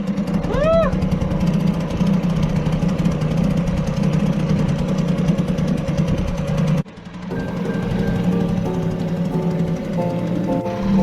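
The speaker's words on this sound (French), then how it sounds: "Ça y est, on a réussi à faire démarrer le moteur." A small petrol outboard boat engine, left unused since summer, runs steadily and loud throughout, dropping briefly to a rougher, lower idle partway through before picking back up, with some chatter audible beneath the mechanical drone.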